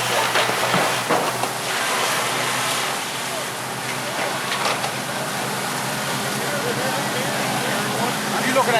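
A firefighting hose stream pours water onto a burning building, a loud, steady rushing roar that holds throughout, with no pauses.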